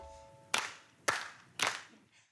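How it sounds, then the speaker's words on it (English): Three crisp hand claps spaced evenly about half a second apart, close and clear over a quiet background, in a children's song about body parts. "Can you make your hands go clap,"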